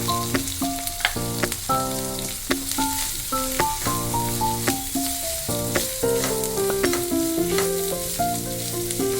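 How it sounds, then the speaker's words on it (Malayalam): Ginger, garlic, sliced onion and curry leaves sautéing in a pan for masala fish fry, a soft continuous sizzle with stirring clicks, largely covered by loud melodic music playing over it. "ഇനി കുറച്ച് കറിവേപ്പിലയും ചേർത്ത് കൊടുത്ത് ഇത് നല്ലതുപോലെ ഒന്ന് ഇളക്കി കൊടുക്കാം."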